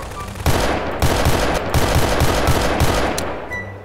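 Rapid automatic gunfire in the Garry's Mod sandbox game, loud and close, coming in several sustained bursts with brief gaps between them.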